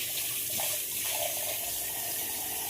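Tap water running steadily into a kitchen sink while dishes soak, a continuous close hiss and splash with no gaps, filling the whole moment without any voices.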